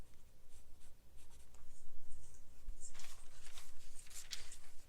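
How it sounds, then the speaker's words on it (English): A pen or marker drawing lines on embroidery stabilizer for a doll bodice pattern, producing soft, scratchy strokes in short repeated bursts, close and fairly quiet. "drawing the armholes"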